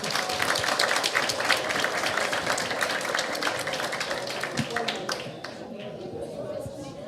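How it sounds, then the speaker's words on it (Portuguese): Group applause at a participatory training session in Brazil, steady crowd clapping with some cheering and voices mixed in, sustained for several seconds before tapering off into quieter chatter. "uma salva de palmas para todos nós"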